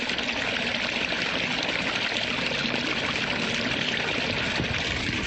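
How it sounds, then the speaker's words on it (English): A stream flows steadily over rocks in the Santa Clarita Valley, a continuous broad rushing and trickling of water, fairly close and unbroken, with no voices. "The sound of water, indeed the lure of water."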